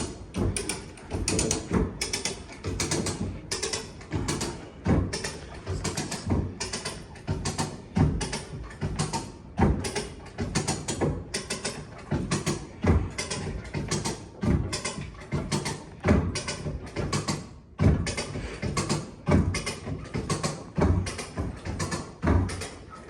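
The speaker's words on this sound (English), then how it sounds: "start cranking it back, Jacob." A hand crank on a 1932 Chevy is worked steadily, giving repeated rhythmic mechanical clanks and ratchety clicks close by, continuing evenly with brief pauses.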